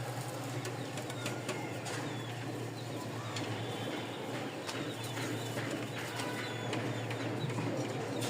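Giribaz flying pigeons of a Rajshahi line coo and flutter nearby, soft calls and wing sounds scattered over a steady low hum, fairly faint with no voices.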